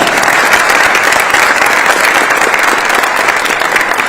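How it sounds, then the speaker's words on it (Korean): A large audience at an official Korean ceremony honouring national athletes bursts into loud, sustained applause, dense clapping filling the hall throughout. "우리 선수들에게 다시 한번 뜨거운 박수 부탁드립니다."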